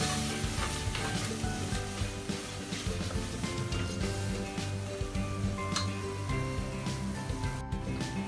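Onions sautéing in a pressure cooker pan for chicken biryani: loud, continuous sizzling with frequent stirring scrapes and clatters.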